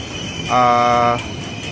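KRL commuter train pulling into track 1 at Manggarai Station, a brief steady tonal whine swelling up for about half a second, amid busy platform background noise.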